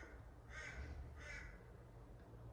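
A crow caws twice in quick succession, faint and distant over a low steady background hum.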